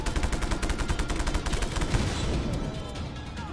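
Rapid automatic gunfire in Just Cause 3, an underground military base: a dense, fast rattling burst close by for about two seconds, then fading into a rumbling echo.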